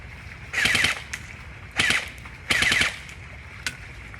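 An airsoft Thompson replica fires three short full-auto bursts of rapid clattering shots, close and loud, followed by a lone single shot near the end.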